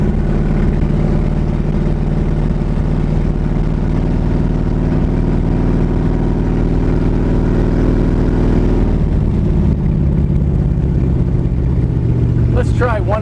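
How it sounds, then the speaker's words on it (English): A Dodge Dart drag car with open exhaust pipes rumbles loud and close in a deep, steady engine drone that holds high, then drops in pitch as the throttle eases off. "Let's try one more go at the throttle with the pipes open."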